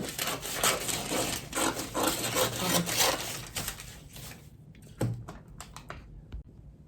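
Scissors cut fabric pattern pieces for a draped cowl dress, a close, steady run of crisp snips and cloth rustling that thins into a few scattered clicks and cuts toward the end, with no talking.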